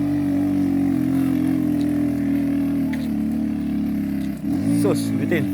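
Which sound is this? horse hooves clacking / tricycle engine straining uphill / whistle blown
tricycle engine straining uphill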